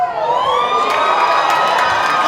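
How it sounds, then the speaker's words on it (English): Audience of girls at an improv show during an anime convention cheering and screaming, a loud, continuous high-pitched crowd roar with no talk over it. "lot more girls cheering for that"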